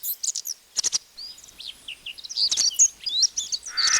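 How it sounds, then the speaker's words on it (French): Outdoors, wild songbirds such as blackbirds, finches and wagtails sing in quick bright bursts of whistles, trills and chirps, several birds overlapping at close to middle distance against otherwise quiet air. "J'entends Dans le chant des oiseaux, La secrète mélopée, merle, pinsons bergeronnet"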